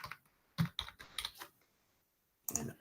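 Several bursts of keystrokes on a computer keyboard as login credentials are entered, clustered clicks in quick groups with a pause between, close and fairly quiet with no talk.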